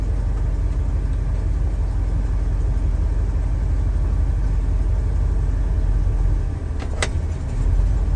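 Old truck engine idling on its own, a steady low rumble that stays even and fairly close throughout, with a brief metallic click near the end.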